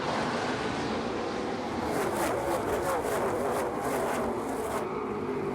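ARCA Menards Series stock cars race at Lucas Oil Raceway, producing a continuous loud, broadband engine roar that swells slightly as the cars pass.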